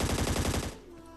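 Rapid burst of M249 machine gun fire in the battle royale game ScarFall, a fast even rattle of about a dozen close, loud shots that cuts off sharply into a short fading tail.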